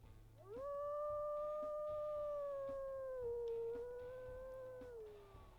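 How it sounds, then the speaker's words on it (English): A wolf in the video game WolfQuest lets out a single long, loud howl that rises quickly, holds steady and slowly drops in pitch, heard alone with no talking over it. "She's a really pretty wolf for sure. Let's go ahead, we'll listen to her howls."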